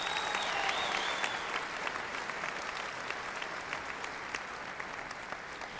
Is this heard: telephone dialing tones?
no